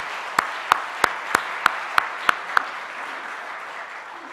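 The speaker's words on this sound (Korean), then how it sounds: "하늘의 영광의 박수 한번 보내주세요" Applause at a Korean church early-morning Monday worship service: eight sharp, evenly spaced group claps in a steady rhythm over roughly two seconds, then fading to quiet room tone with no talking.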